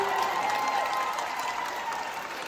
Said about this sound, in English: which was met with a big round of applause.